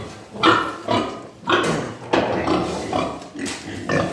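Piglets grunt repeatedly at close range in a new adobe pigsty, a series of short, rough snorts and grunts in an uneven rhythm.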